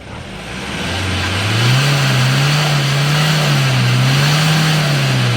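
A Hyundai Porter 2 truck's engine, a vehicle that failed an emissions smoke test, revs up loudly and holds at a steady high pitch with a slight wavering rise and fall, close by with no talk.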